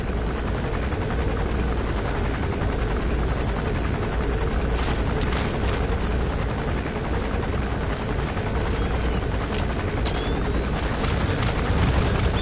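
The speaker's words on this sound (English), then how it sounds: "That's an enemy gunship." Enemy gunship helicopter in Metal Gear Solid V: The Phantom Pain, a steady, loud rotor roar and engine drone that fills the whole stretch without letup, with a few faint sharp bursts partway through.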